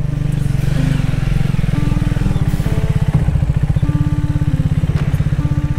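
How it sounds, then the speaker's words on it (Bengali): A loaded motorcycle carrying luggage rides toward a viewpoint at Gufapatal, Nepal, its engine chugging steadily and close throughout with a rapid, even pulse, no voices over it. "ফাইনালি একদম বাইক নিয়ে চলে এসেছি উইথ লাগেজ"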